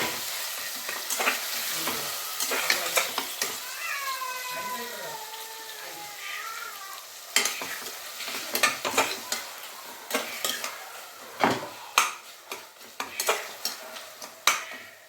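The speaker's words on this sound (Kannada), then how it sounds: "ಈಗ ಟೊಮೆಟೊ ಹಾಕ್ಬಿಡೋಣ. 2 ಟೊಮೆಟೊ ಕಟ್ ಮಾಡಿ ಎತ್ತಿಟ್ಕೊಂಡಿದ್ದೀನಿ, ಅದನ್ನು ಹಾಕಿದ್ದೀನಿ." Two chopped tomatoes soften as they fry in a pan, stirred with repeated scraping clinks over a steady hiss of sizzling. A voice is briefly heard partway through.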